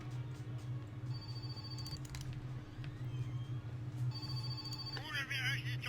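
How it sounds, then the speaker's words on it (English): A phone rings in two short electronic bursts under a steady low hum, with a person talking over it. "the phone's going off"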